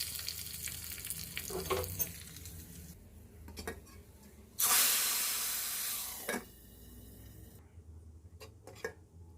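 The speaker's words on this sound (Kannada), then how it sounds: "ಒಂದು ಮೆಣಸು ಹಾಕ್ಕೊಳ್ಬೇಕು ಹಾಗೆ ಒಂದು ಎರಡು ಎಸಲು ಬೇವಿನ ಸೊಪ್ಪು ಹಾಕಿ ಒಗ್ಗರಣೆ ರೆಡಿ ಮಾಡ್ಕೊಳ್ಬೇಕು" Hot oil sizzles loudly in a sudden burst as chilli and neem leaves go into a tempering, amid lighter stirring and scraping of a pan, then settles back to quiet kitchen noise.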